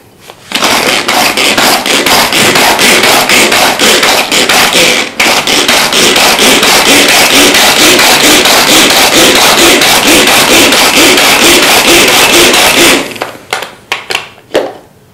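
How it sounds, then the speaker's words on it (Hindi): Green chili, mint and garlic being chopped with a knife on a board, a loud, dense stream of rapid close-up blade strikes lasting about twelve seconds, then a few slower taps as it stops. "इन चीज़ों को चॉप करते हैं"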